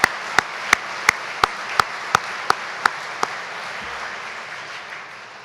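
At an Eagle dinner, a crowd applauds for a co-chairman: sharp, evenly spaced claps stand out over a softer, continuous wash of clapping that fades toward the end.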